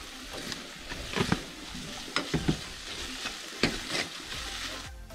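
Tomatoes and vegetables with salt fry in a pan for a Gundruk and Sinki soup, a soft sizzle broken by irregular scraping strokes of a spoon stirring close up.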